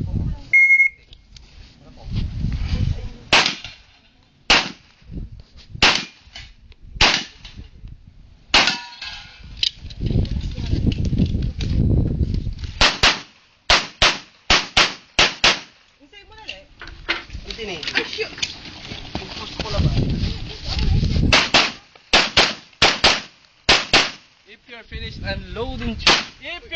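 Pistol gunshots at a shooting range competition: repeated sharp, loud shots fired in quick strings with pauses between, alongside range commands, talking and a timer beep.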